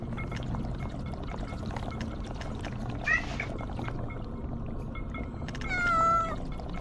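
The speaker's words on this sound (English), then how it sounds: "that cat, it's a little bit annoying" A cat in the video game Zoria: Age of Shattering meows twice, short and fairly close, over a busy low background of game ambience.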